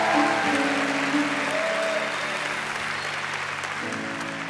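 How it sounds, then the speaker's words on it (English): A chapel congregation at Oral Roberts University claps together for about five seconds, a dense, even wash of hand claps with a faint sustained tone underneath. "for 5 seconds, give Jesus a hand clap"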